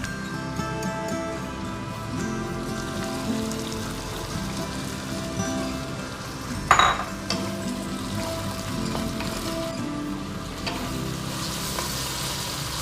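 Chopped onions tipped into a hot pan of colourful stir-fry for Kung Pao chilli chicken, with a steady loud sizzle throughout, one brief clatter midway, and stirring scrapes, no talking.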